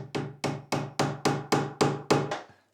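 Eight evenly spaced hammer blows drive a metal joist hanger onto a wooden joist during floor building, each strike sharp and woody with a short ring, close and loud with no talking.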